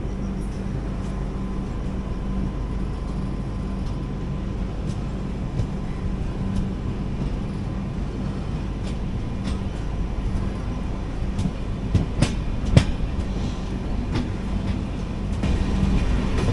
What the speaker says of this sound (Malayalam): നമ്മുടെ ട്രാക്ക് ചേഞ്ചിങ് പോയിൻ്റ് എത്തി.